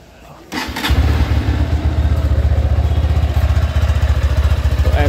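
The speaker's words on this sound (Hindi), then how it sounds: "इस बाइक का एग्जॉस्ट नोट भी आपको सुनाते हैं एक बार" A Honda Hornet 2.0 motorcycle engine fires up and settles into a loud, throaty idle, its exhaust thumping in a steady, rapid pulse close by.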